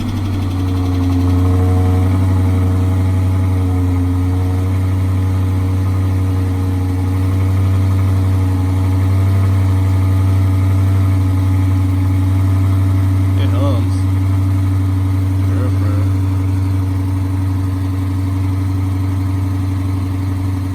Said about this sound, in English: let me go ahead and start y'all off with a cold start of the stock exhaust